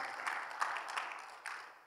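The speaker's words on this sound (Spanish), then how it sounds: "dáselo fuerte al Señor ese aplauso, por favor" Church congregation clapping in applause during a Bible seminar service, a soft, distant wash of many hands with a few louder bursts, fading toward the end.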